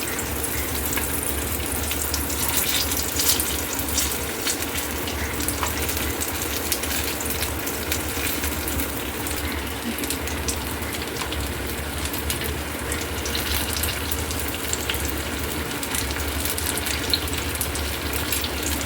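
Ragi snack balls fry in a pan over a medium flame, giving a steady, close, even sizzle that carries on without a break; no one talks.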